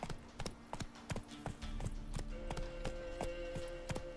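Roach the horse's hooves clip-clop in The Witcher 3, a clear, regular string of sharp hoof strikes at walking pace, close and distinct over soft background sound.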